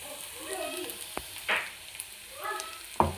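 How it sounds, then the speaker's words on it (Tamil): Ground spice powder sautés in a pan for curry leaf chicken sukka, with soft sizzling and a few sharp scrapes and taps of a spoon stirring, quiet and close. "அரைச்ச பவுடரை சேர்த்து நல்லா வதக்கி விட்டுருங்க."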